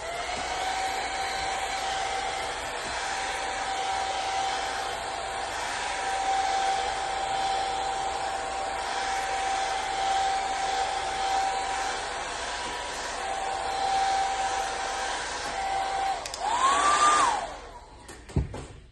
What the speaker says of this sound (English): I will dry that with the hairdryer.